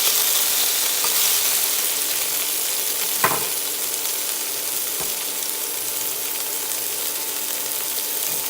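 Fish sautéing with a squirt of ketchup in a pan makes a steady, loud sizzle close by, broken by a couple of sharp knocks of a utensil against the pan.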